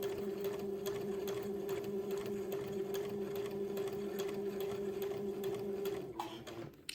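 A sewing machine stitches along the bottom of a waistband, giving a close, steady mechanical whir with a fast, even rhythm for about six seconds before slowing and stopping with a few small clicks.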